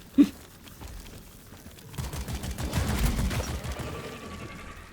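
Video game gunfire from Deep Rock Galactic starts with a single sharp shot, then a rapid, moderately loud fusillade of repeated shots builds in the middle and tails off, with no talk.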